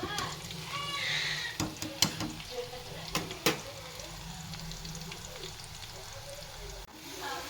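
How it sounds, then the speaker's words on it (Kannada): Potato chips frying in hot oil, a steady sizzle running throughout with several sharp clinks and scrapes of stirring near the middle and a faint voice in the background. "ಅಲ್ಲಗಡ್ಡಿ ಚಿಪ್ಸ್ ಫ್ರೈ ಆಗತ್ತವು"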